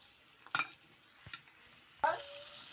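Cashews and onion frying in a pan with ginger and garlic for butter egg curry, a quiet sizzle with a few sharp stirring clinks and scrapes, close by.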